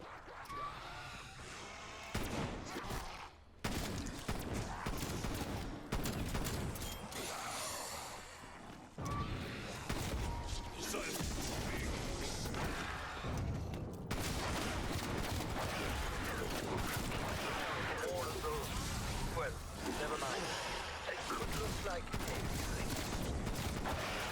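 Gunfire from Call of Duty Cold War zombies on the Firebase Z map tears through mimic enemies in dense, rapid bursts and impacts, nearly continuous and loud, with a voice talking over the shooting.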